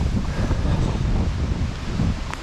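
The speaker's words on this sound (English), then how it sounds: "It's way too windy today." Strong wind buffets the microphone in a steady low roar from a small boat, with a faint wash of water underneath; no one speaks.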